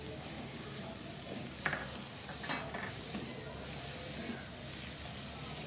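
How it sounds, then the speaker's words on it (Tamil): Ginger garlic paste stir-fried in a pan while making paneer dosa, giving a steady low sizzle with occasional stirring scrapes and clinks, close by and with no talking. "இதை இந்த இஞ்சி பூண்டு வாசனை போகிற வரைக்கும் இதை ஒரு 3 நிமிஷம் நல்லா வதக்கிடுவோம்."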